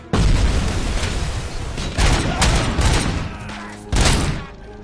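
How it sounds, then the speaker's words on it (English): Grenade explosions in the RoboCop: Rogue City video game: three loud, close, booming blasts in a row, each with a long rumbling tail. "Terrible grenade, bro."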